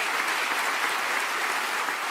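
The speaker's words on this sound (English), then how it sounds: "We're going to have a round of applause for that." Steady applause from a television studio audience, a dense even patter of many hands clapping, sustained and close for a couple of seconds with no voices.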